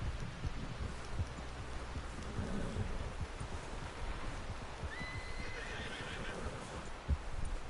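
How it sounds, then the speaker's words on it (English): A horse in Red Dead Redemption 2 whinnies with a rising, drawn-out call over a steady wash of rain-like ambience, with occasional hoof clops and low rumbling underneath. "Someone help John down off this horse"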